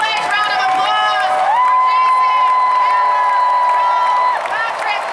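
A convention crowd at the Warner Bros panel at San Diego Comic-Con 2018 cheers and applauds loudly and continuously, with a high sustained shout or whistle ringing above the dense roar for several seconds.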